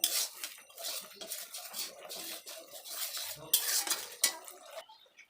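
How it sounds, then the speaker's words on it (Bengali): Spice paste with a little turmeric stirred and fried in a pan over low heat for a village-style catla fish curry, giving close scraping and clinking of a utensil against metal with a faint sizzle. "মশলাটাকে ভালো করে কষবো আমি আঁচটাকে একটু কম করে নিয়েছি নাহলে মশলাটা পুড়ে যাবে"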